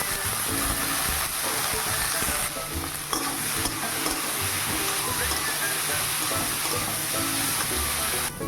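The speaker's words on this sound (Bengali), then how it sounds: "উচ্ছে বেগুন একসঙ্গে ভাজা হয়ে গেল, এখন নামিয়ে নেব।" Sliced bitter gourd and eggplant fry together in a pan, with a dense, continuous sizzle and occasional stirring scrapes, close and even throughout.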